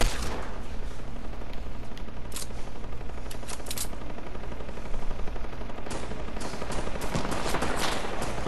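Nonstop gunfire in a Fortnite match rattles as a dense, steady barrage of rapid shots, with a few sharper cracks standing out, and no talking.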